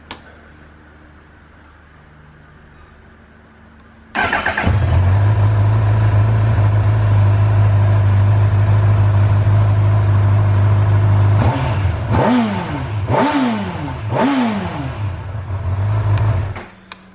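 After a quiet start, a 2018 Honda CB1000R motorcycle engine fires up and idles loudly and steadily in neutral, then revs sharply three or four times in quick bursts before dropping back.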